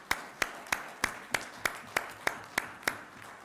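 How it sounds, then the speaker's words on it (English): A seated audience at a World Memon Organisation gathering claps in steady, evenly spaced sharp bursts, about ten in a row, moderately close and with no talking over them. "Round of applause, please."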